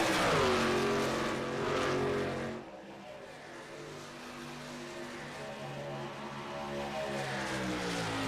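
Ford F-150 race trucks roar around the banking through turns 3 and 4 at Kansas Speedway, one loud pass fading out, followed by a steady, more distant drone of engines.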